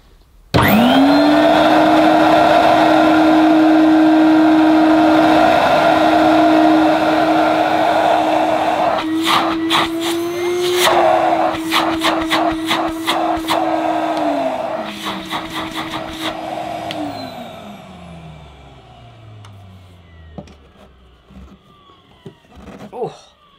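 A Hoover Futura 2000 commercial vacuum cleaner starts up with a loud, steady whine and roar, runs continuously with intermittent clatter, then winds down as the motor slows and fades.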